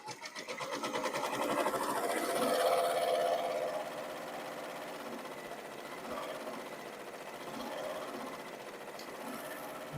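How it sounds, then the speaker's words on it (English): Embroidery machine stitching a halo in Vegas Gold Madeira thread, a fast steady mechanical chatter that swells early then settles into a quieter even run. "now we're just gonna go ahead and stitch out the last part, and that is the halo"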